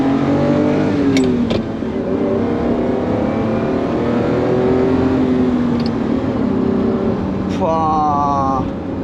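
A Ferrari Testarossa engine revs hard while driving through Monaco, a loud close roar whose pitch climbs and falls through the gears, with a brief higher rev near the end and people talking over it.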